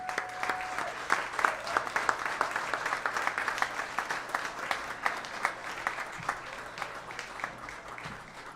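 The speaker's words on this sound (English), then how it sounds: "let's have a round of applause for Steve Stefanowitz" An audience applauds big band singer Steve Stefanowitz at a live orchestra session in a venue, with sustained clapping from a moderate-sized crowd that thins slightly toward the end while a low instrumental hum lingers beneath.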